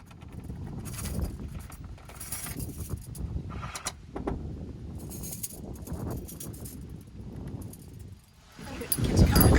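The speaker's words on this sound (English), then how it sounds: "We have the keys of the mission here" Keys jingle and clink in bursts, followed by heavy clunks and creaks as the historic doors of a California mission are worked open, ending in a louder rattle close by.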